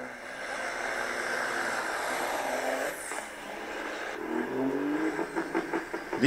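Big rig trucks drag racing, with loud, broad engine roar and rising revs that build steadily, then a sharper burst of pulsing acceleration near the end.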